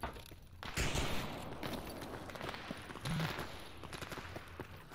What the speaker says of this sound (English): Just saw a loner shooting a zombie.